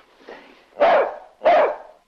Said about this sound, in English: I haven't heard Corky bark in ages